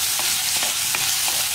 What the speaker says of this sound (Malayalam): ഇനിയിപ്പോൾ നമുക്ക് തക്കാളിയും കൂടി ചേർത്ത് ഒന്നുകൂടി ഒന്ന് വഴറ്റിയെടുക്കാം.